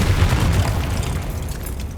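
A Confringo blasting spell goes off in Hogwarts Legacy, a loud close booming explosion with a deep rumbling tail that fades slowly over two seconds.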